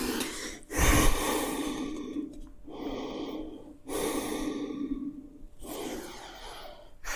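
Deep audible breaths during a yoga stretch, close to the mic: long airy inhales and exhales alternating in slow cycles, each lasting a couple of seconds, with no talking.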